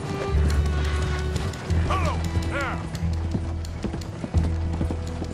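Horse hooves clip-clop in a steady rhythm in Red Dead Redemption 2, close and loud over low game music, with a couple of brief whinnies midway.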